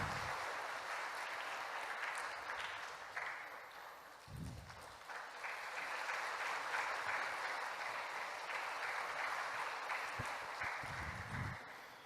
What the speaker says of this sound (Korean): 박수로 격려해 주시기 바랍니다.